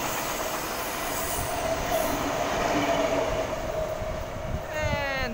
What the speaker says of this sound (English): And same time, Waratah departing.